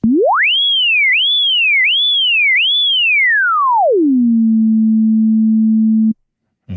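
Pure sine-like tone from a SynthMaster 2 synth on iPad, its pitch swept by a looping multisegment envelope: a rising glide, four wavering peaks, a long fall, then a steady low hum that cuts off abruptly, loud and alone.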